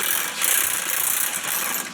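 Power tool, likely an impact gun, loosening a seized bolt on a Jeep Wrangler suspension arm, giving a continuous loud mechanical rattle with bright high-pitched whine throughout.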